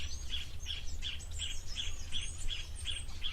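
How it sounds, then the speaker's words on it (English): Small birds, likely blue waxbills, call close by at a waterhole. They give a steady, rhythmic series of bright chirps about three per second over a low background rumble. "Lots of birds calling just near to the camera as well."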